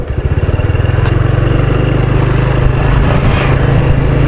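A motorcycle engine runs loud and close at a steady, rapid idle pulse, its throb slightly rising and roughening toward the end, with no voices.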